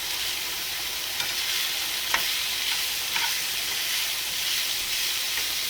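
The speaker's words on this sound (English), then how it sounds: "I'm going to do a little stir there." A spoon stirs Romanian cabbage roll filling in a frying pan: a steady, close sizzle with a few soft scrapes and clicks against the pan, and no voices.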